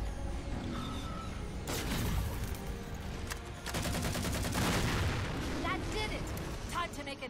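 Heavy gunfire and explosive blasts from the Halo 4 video game, dense rapid volleys loud and up close, mixed with a voice talking over the battle.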